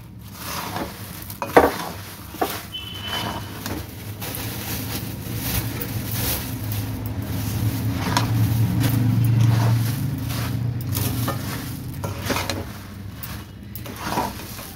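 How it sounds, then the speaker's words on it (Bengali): Puffed rice stirred into melted jaggery in a pan for murir moya, with a continuous dry rustling and scraping and occasional sharp knocks of the spoon against the pan, close and fairly loud. "এবার আমি এটার মধ্যে মুড়ি দিয়ে দেবো, মুড়ি দেবো, দিয়ে নেড়ে নেবো ভালো করে।"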